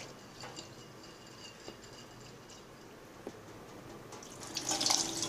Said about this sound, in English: Now, rinse the black beans at least twice and then drain dry.